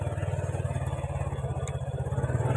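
A motorcycle engine idles with a rapid, even low thumping pulse, close up, with a faint clunk partway through as it shifts into first gear.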